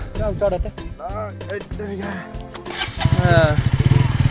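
A motorcycle engine sputters and then settles into a loud, steady idle among tea gardens in Ilam, Nepal, with people talking over it near the start.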